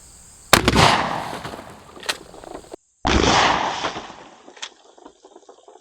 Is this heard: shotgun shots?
yes